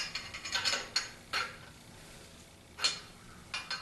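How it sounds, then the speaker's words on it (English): Close ratchet wrench clicking on a 1976 Corvette water pump, in four or five quick bursts of sharp metallic pawl clicks separated by brief pauses. "Try my biggest wrenches. Oops, that's tightening."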